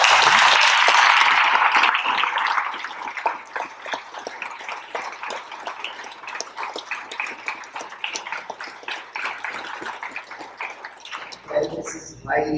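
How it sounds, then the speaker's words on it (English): A crowd at a National POW/MIA Recognition Day ceremony breaks into loud applause that tapers into scattered clapping over several seconds, with voices mixed in. "Give me a round of applause."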